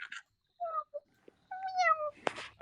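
A person imitates a kitten's meow, giving a few short, high, rising and falling mewing calls with brief pauses between them, close and fairly quiet, ending in a short breathy burst.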